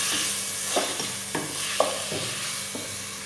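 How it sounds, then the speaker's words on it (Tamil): Tomato masala with salt sautéing in a pan for chicken biryani, a constant soft sizzle punctuated by about half a dozen regular spatula scrapes, close up with no talking. "உப்பு சேர்த்து நல்லா வதக்குங்க"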